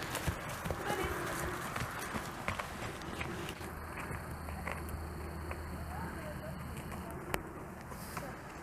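Ganesh the horse trotting on a lead rope, a steady clip-clop of hooves through continuous outdoor background noise, with a person speaking encouragement over it.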